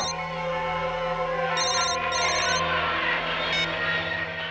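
A telephone rings in two or three short electronic bursts over a steady background hum and music in an indoor scene from a Hindi crime drama.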